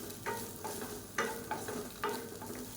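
Pidi kozhukattai being stirred in a pan, with a few distinct scraping strokes at an irregular rhythm over a soft sizzling hiss, close by with no talking.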